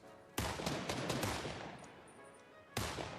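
Enemy gunfire in a video game, a short run of rapid shots and cracks that fades out, then one more sharp shot near the end, with no one talking.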